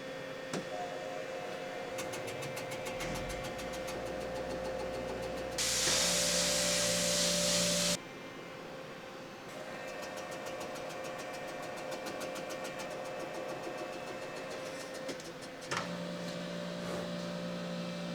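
A milling machine traversing along a big-block Mopar V8 engine block while notching the cylinder bores, a steady mechanical hum with faint ticking, interrupted midway by a loud, broad hiss lasting a couple of seconds.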